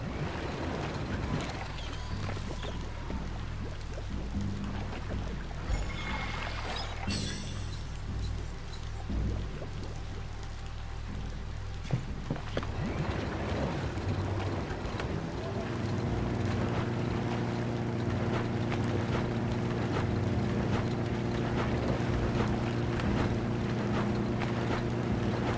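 Steady watery rushing and splashing as a boat is paddled across water in Biomutant, with a continuous engine-like drone joining partway through, no voices.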